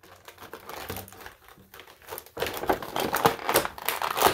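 Plastic packaging for a 2012 WWE Elite Brodus Clay action figure is torn open up close. It starts as quiet crinkling, then turns to louder, busier ripping and crumpling.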